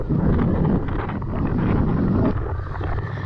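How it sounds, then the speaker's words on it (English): Strong wind roars past the microphone at a lakeside park where a windsurfer is sailing, a loud continuous rumbling buffet that eases slightly toward the end, with no voices. "that's quite a breeze he's sailing in"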